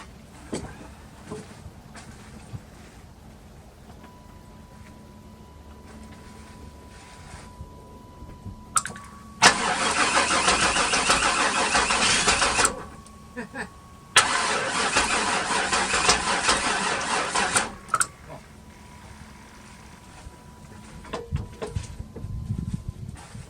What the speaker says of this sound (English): I can tell you we got spark because it almost started.